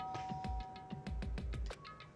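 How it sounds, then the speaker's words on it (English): Doorbell chimes from the video game Danganronpa: Trigger Happy Havoc ring in a quick run of bright, resonant tones, each with a soft low thump, sounding fairly close and clear with no talking. "and pressed the doorbell"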